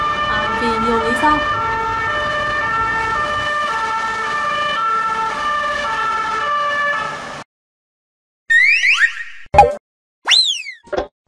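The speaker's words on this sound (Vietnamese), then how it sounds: "Xe buýt cảnh sát còn gọi là xe cảnh sát" Police vehicle siren with a steady two-tone wail that stops abruptly, followed by brief sweeping whoop bursts, loud and close with no talk.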